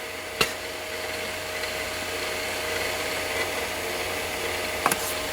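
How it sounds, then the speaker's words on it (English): An old computer hard drive spins with a steady, even whine and airy hum, fairly close and constant, with a couple of brief clicks. "Hard drive sounds good."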